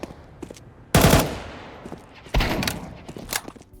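Gunfire from an online first-person shooter game plays on a GTX 1080 graphics card, with two sharp, loud bursts of shots about a second and a half apart and fainter pops and clicks between them.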